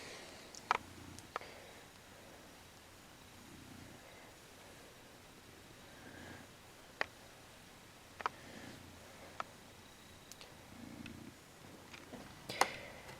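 A cat purrs steadily and softly up close, a low continuous rumble with a few faint clicks and ticks scattered through it, no voices.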